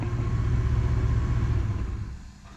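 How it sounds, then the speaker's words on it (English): A used pickup truck with a 5-speed manual gearbox idles and runs with a steady, loud low rumble close by, easing off near the end; no talking. "brand new used pick 'em up truck."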